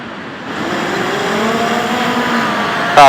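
Skydio 2 drone lifting off outdoors on a calm day, a steady propeller whine with shifting rotor tones that rises and holds loud and close, ending in a sharp burst of noise.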